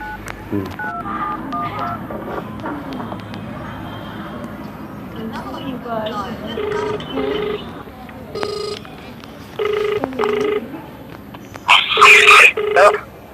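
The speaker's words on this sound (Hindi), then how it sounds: "अभी दुबई तेरे बेटे अजमल के पास फोन लगाती हूँ।" A short run of phone keypad tones and beeps sounds under someone talking, followed by a brighter ringing tone near the end.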